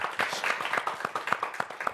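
A studio audience at a live television show claps briefly, a brisk patter of many hands, fairly close and moderately loud, for about two seconds.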